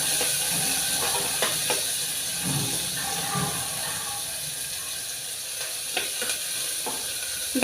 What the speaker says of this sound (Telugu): ఎండుమిర్చి ఒక 4-5 మిరపకాయలు వేస్తున్నాను. ఇవి కొంచెం వేగాలి